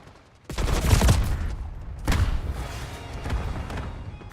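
A concussion grenade blows up in a video game: one sharp, loud blast at the start, a second burst about 1.5 seconds later, then a lingering rumbling tail.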